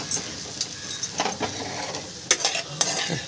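Chow mein is scraped and served out of a hot pan, with a steady soft sizzle broken by sharp metal scrapes and clinks of a utensil against the pan.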